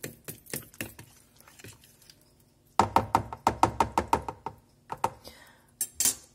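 Ten eggs being beaten by hand in a bowl for pasta pizza, rapid rhythmic clacking of a fork or whisk against the bowl in several bursts with pauses, close and moderately loud.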